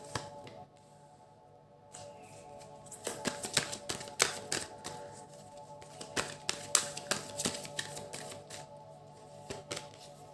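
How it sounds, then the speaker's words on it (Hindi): Tarot cards drawn one after another from a deck, giving quiet, close crisp snapping and flicking taps in an irregular run, with a faint steady hum underneath. "मैं सारे कार्ड्स निकाल लूँ पहले"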